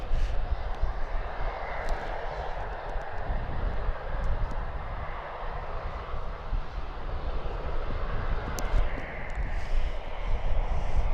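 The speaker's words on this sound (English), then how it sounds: "there you are. V22 Osprey" A V-22 Osprey tiltrotor flies over RAF Mildenhall, giving a steady, broad roar that holds across the whole stretch with no let-up, heard from a distance outdoors.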